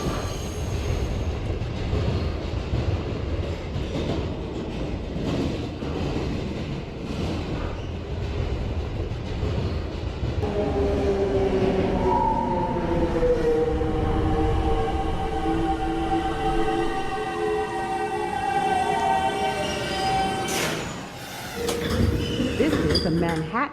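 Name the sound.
New York subway Manhattan-bound 1 train riding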